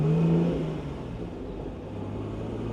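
Engine of a 1970 Mercedes-Benz 280SL with a manual 4-speed gearbox on a test drive, roof on: a steady, fairly loud cabin drone with a brief rise at the start, then easing to an even cruise.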